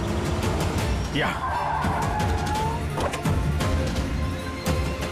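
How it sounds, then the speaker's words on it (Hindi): A car brakes to a stop with a brief tyre squeal during a tense CID investigation scene, heard over a steady background score with voices nearby. "गाड़ी रोकना यहाँ पे।"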